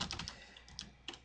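Quick bursts of keystrokes on a computer keyboard, soft close clicks in small irregular clusters with short pauses between them, heard alone at low volume.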